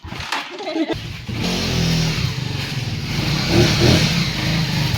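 A motorcycle engine starts up after a few clattering sounds and then revs in a steady, rough mid-range drone that rises toward the end. It is heard close by, with voices talking over it.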